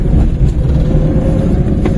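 A Maruti 800 small hatchback driving, heard from inside the cabin as a loud, steady low engine drone with road rumble and no talking.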